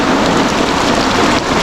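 Heavy rain pours down in a forest, a loud, dense and unbroken roar of drops with no voices over it.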